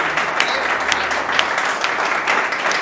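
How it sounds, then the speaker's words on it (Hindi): Audience at a Hindi humorous poetry recital clapping, a steady, fairly close round of applause with individual claps standing out, continuing throughout. "जोरदार तालियां बजाकर"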